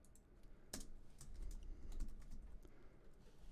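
Typing on a computer keyboard: a quick run of soft, irregular key clicks with one sharper tap near the start, close and quiet, no voices.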